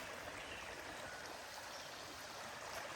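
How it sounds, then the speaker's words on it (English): Big Elk Creek babbling steadily over riprap boulders, a continuous close wash of rushing, gurgling water with no pauses or voices. "babbling brook"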